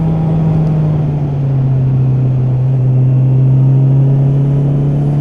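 A 2021 Honda CB650R motorcycle held in third gear on a race track, its engine droning at a steady loud pitch that rises slightly near the end, heard up close with no voices.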